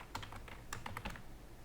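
Quick bursts of keystrokes on a computer keyboard, a handful of close, light clicks in two short clusters over a faint background hiss, with no voices.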